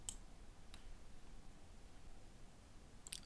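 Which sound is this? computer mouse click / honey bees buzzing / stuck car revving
computer mouse click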